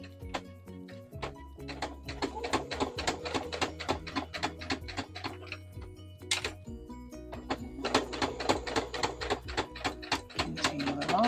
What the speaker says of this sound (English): Now I'm going to back stitch just to lock it.